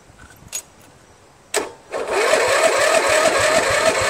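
A Briggs & Stratton 14.5HP OHV engine on a Craftsman LT1000 lawn tractor cranks: two short isolated bursts, then from about two seconds a loud, steady, continuous churning that holds to the end.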